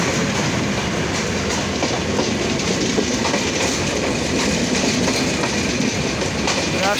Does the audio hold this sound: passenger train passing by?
yes